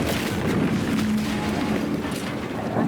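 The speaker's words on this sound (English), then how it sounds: "What's that? An explosion?" A distant explosion in The Outer Worlds 2 video game, a low rumbling boom that rolls on for a few seconds beneath a noisy game soundscape, with no speech.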